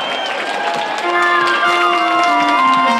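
At an advent Christmas tree lighting in Čelákovice, an outdoor crowd claps and cheers loosely while music with sustained tones plays on and voices mingle throughout.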